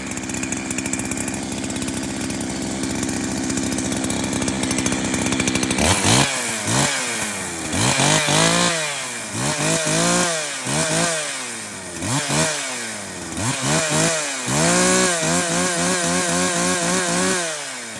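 A Husqvarna 372 XP chainsaw, just repaired with a new starter pulley, idles with a buzzing drone, then is revved repeatedly in a series of rising and falling whines, close and loud with no talking.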